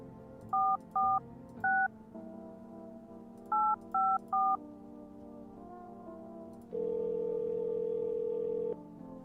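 Telephone keypad tones in a video game, two quick bursts of three dialed beeps each, followed by a steady dial-like tone, all clean and close.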